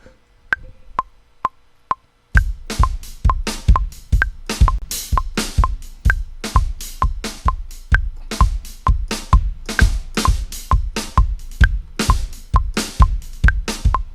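After a few quiet clicks counting in, a fast 130 bpm drum beat kicks in, punchy kicks and sharp cymbal-laden hits repeating evenly throughout.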